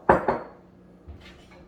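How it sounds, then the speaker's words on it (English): A spoon clinks twice against a container while stirring garlic and salt brine for homemade deli pickles, followed by a faint scrape, close and otherwise quiet. "Just want to stir that up."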